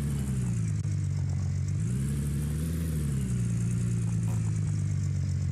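A vehicle engine in the Gold Rush video game runs at a steady idle. The low rumble is continuous and close, its pitch rising and falling slightly as it revs gently, with no voices over it.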